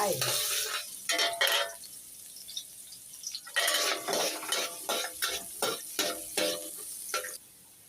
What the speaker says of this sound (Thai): ตั้งกระทะใส่น้ำมัน พอน้ำมันร้อนแล้วก็ใส่กระเทียมลงไป